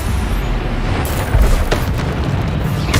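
A Depulso spell blast in Hogwarts Legacy, heard as a dense, loud booming burst amid continuous rumbling combat noise, with a few sharp crackling hits layered on top.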